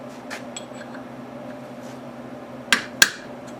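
A chisel is hammered against an axle bearing on an old Ford F100, two sharp metallic strikes close together near the end after a quiet stretch with faint taps.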